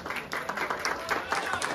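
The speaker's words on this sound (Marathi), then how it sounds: "जोरदार टाळ्या जोड्यासाठी।" Guests at an engagement ceremony clap for the newly engaged couple, a brisk, close round of applause with crowd murmur mixed in, lasting under two seconds.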